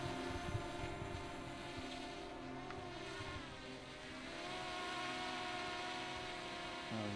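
A FERIETELF B12 GPS drone under 250 g climbs in flight, its brushless motors giving a steady high-pitched whine and hum that holds loud and continuous, with no voices.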